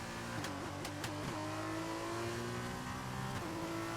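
Formula 2 race cars in the iRacing sim game at Bahrain scream continuously at high revs, with rising and falling engine pitch and quick gear shifts, loud and steady throughout.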